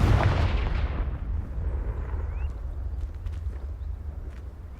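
Confringo blast spell in the Hogwarts Legacy video game, a single loud booming explosion at the start that trails off into a long rumbling decay and low background noise.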